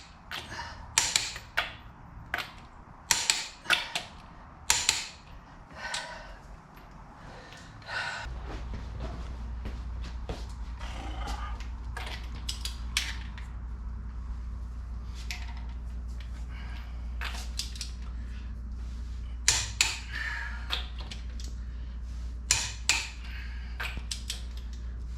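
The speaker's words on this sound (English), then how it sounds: "So let's make sure we torque them." A wrench torques a car's lug nuts, with sharp ratcheting clicks and metallic creaks in quick bursts, densest early on, followed by sparser clicks over a steady low hum.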